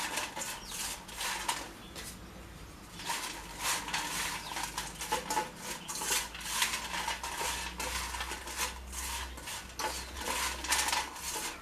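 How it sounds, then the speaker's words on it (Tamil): A spoon scrapes and clatters against a pan while potato fry with chilli powder and salt is stirred, giving a close, irregular run of metallic taps and scrapes. "இதை அப்படியே நல்லா கிளறி விட்டுக்கணும்"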